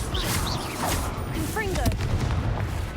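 Confringo and Bombarda spell blasts in Hogwarts Legacy, a dense rumble of booming explosions and crackling impacts in quick succession, with short swooping magical tones and a voice speaking over the fight.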